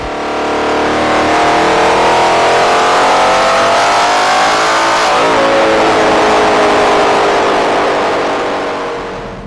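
A 2019 Ford Mustang GT with a Steeda X-pipe and Borla S-Type active exhaust revs up loud and near, pitch climbing then easing back down, a throaty V8 roar with no talking.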